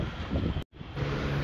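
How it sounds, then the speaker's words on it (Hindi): Strong wind blowing across an outdoor stadium construction site, a steady loud rushing roar that briefly cuts out before resuming. "काफ़ी तेज़ हवा चल रही है इसलिए काम को रोका है"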